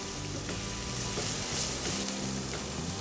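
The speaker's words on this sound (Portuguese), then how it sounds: "Só vou fritar rapidamente esse alho." Garlic cloves frying in olive oil in a pan make a steady, close hiss and crackle that runs unbroken with no talk over it.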